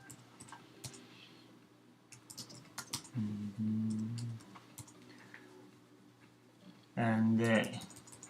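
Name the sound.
typing on a computer keyboard to configure Cisco router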